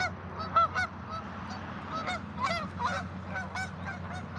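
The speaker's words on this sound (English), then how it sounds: "They're all screeching." Geese honking and screeching loudly on a morning nature walk, repeated harsh overlapping calls coming close together from a nearby flock, with no talking.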